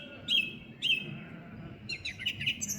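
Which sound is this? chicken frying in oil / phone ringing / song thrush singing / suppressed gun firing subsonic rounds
song thrush singing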